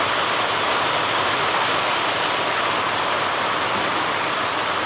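Steady, dense rushing of heavy monsoon-style downpour in a farm courtyard in Lavarda, loud and continuous throughout with no pauses or voices.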